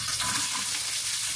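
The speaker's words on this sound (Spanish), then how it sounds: "vamos a freír la cebolla y los chiles" Chopped onion and chillies fry in a hot skillet with a dense, continuous sizzle and faint stirring, close and loud throughout, without talk.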